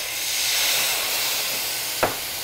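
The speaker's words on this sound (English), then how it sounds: "Look at that steam." Hot pan deglazed with a splash of white wine, giving a steady loud steam hiss throughout with a short sharp clink near the end.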